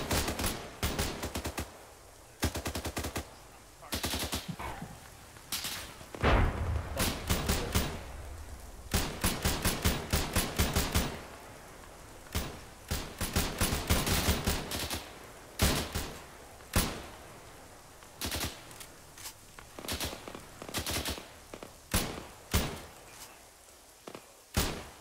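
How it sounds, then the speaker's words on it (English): Video-game gunfire in ArmA 3, a military combined-arms battle: irregular bursts and single loud shots crack out repeatedly over about twenty-five seconds, some distant thuds mixed in, with no talking. "I'm opening fire."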